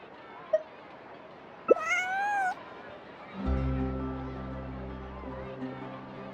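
A cat in a video game gives one rising, drawn-out meow during a quest, followed by a low sustained musical hum; no talking accompanies it.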